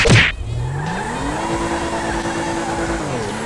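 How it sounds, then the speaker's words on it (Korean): A Hyundai YF Sonata in GTA 5 accelerating on a highway, a loud steady engine drone whose pitch climbs and then holds high, opening with a short sharp burst, close and alone. "이 차량 가속력은 빠른 것 같아요"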